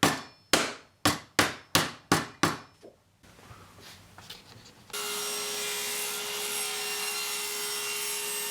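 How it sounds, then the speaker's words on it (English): Plugs 2 1/8 inches wide are hammered into snug 2-inch pipes with about seven sharp, evenly spaced blows over three seconds. A steady, hissing noise follows. "once you pound it in, it will be very difficult to pull apart."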